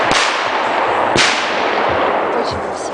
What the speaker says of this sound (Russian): А вот там сейчас будет взрываться салют.